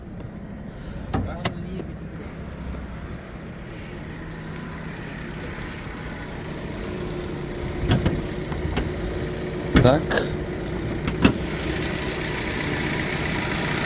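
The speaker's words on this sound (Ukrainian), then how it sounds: "завели автомобіль, чисто м'яко працює" A car engine idles smoothly and steadily throughout, with a few clicks and a short spoken word near the start.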